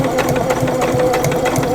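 A sewing machine stitches slowly around a curve while sewing a small eyeglass or pencil case, giving a close, even run of quick mechanical pulses.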